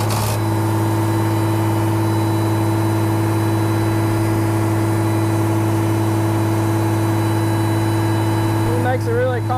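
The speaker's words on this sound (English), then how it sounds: "I'll go ahead and rev the motor up here too," Diesel engine of a Mercedes Unimog FLU419 SEE tractor held at raised revs while its backhoe tilts, a loud constant low drone filling the whole stretch, with a faint brief voice near the end.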